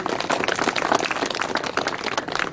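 An audience clapping their hands at a Dhamma talk: a steady, dense patter of many hands, continuous and even throughout, with no talking over it.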